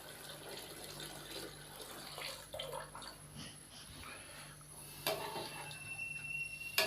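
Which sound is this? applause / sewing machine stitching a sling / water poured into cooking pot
water poured into cooking pot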